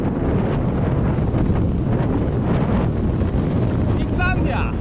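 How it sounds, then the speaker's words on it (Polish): Strong wind buffets the microphone on a mountain trail, a loud, steady roaring rumble lasting the whole stretch, with a brief faint voice near the end. "Ale wieje dzisiaj."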